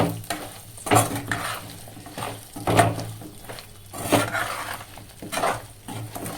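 Fried prawns stirred into prawn pickle masala in a pan, with a steady sizzle under rhythmic scraping strokes of a spoon roughly every second and a half, close up with no voices.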